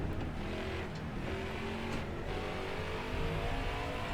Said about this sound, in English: You can hear me having to hesitate on the throttle